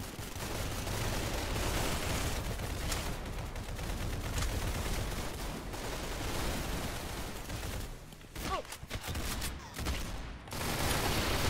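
Dense rapid gunfire in the Roblox game Arsenal, a continuous loud barrage of shots for most of the stretch that breaks into short separate bursts and gaps near the end, with no talking.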